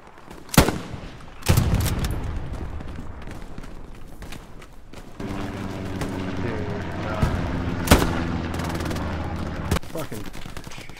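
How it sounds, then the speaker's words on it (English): Gunfire in the World War II shooter Hell Let Loose: a few sharp, loud single shots ring out at intervals over a busy background of distant battle noise and movement. "Now I'm taking fire."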